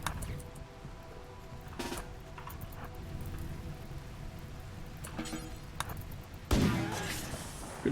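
Gunfire aimed at a bear in the video game RimWorld, a few sharp bursts near 2 s and 5–6 s and a heavier volley around 6.5 s over a steady ambient game background.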